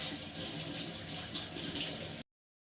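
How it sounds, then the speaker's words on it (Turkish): Running tap water pours steadily as oyster mushrooms are quickly rinsed in a sink, a close continuous splash that cuts off abruptly near the end. "O yüzden hemen şöyle içine su çekmeden hızlı şekilde bir sudan geçireceğim"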